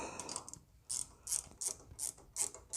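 A ratchet wrench tightens a fitting on a KTI hydraulic pump being installed in a 1959 Chevy, giving a quiet, close series of about six rhythmic clicking strokes with no talking.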